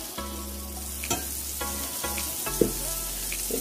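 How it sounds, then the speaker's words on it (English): Salted butter hisses and sizzles as it melts in a hot cast iron skillet, a steady close frying sound with a few scraping stirs and light clinks, no voices. "We are going to throw in the pan some salted butter right here."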